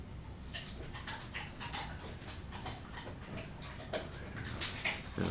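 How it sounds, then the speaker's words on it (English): A dog eats a treat in the background indoors, with a run of soft crunching and smacking mouth sounds, moderately close and continuous for several seconds without talk. "you can hear the dog having a treat in the back"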